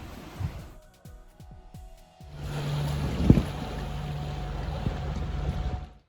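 A sailing boat's engines start at sea after the wind drops. A few sharp knocks come first, then a steady low engine drone rises and holds, mixed with wind and water noise.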